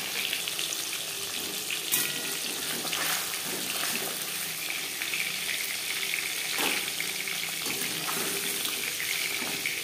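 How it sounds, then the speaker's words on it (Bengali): Live shol fish shallow-frying in oil in a pan, a continuous hissing sizzle with crackling pops, steady and close throughout, with no talking. "জ্যান্ত মাছ তাই আমি হালকা করেই ভেজে নেব।"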